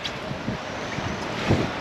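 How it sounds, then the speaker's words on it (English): Wind blowing over a small fishing boat on Southampton Water, a steady rushing buffet against the microphone with a stronger gust near the end and no talking. "that wind is a pain"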